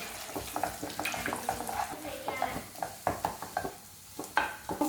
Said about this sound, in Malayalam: മുട്ട കണ്ടോ നന്നായിട്ട് സ്ക്രാമ്പിൾ ചെയ്തെടുത്തിട്ടുണ്ട്